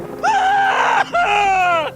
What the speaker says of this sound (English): A man screamed.